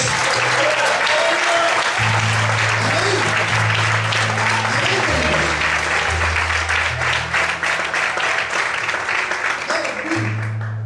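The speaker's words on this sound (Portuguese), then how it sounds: "pode aplaudir a Deus?" Church congregation applauding during a Portuguese-language sermon, a dense, sustained wash of clapping across the whole stretch with low musical tones, likely keyboard, playing underneath.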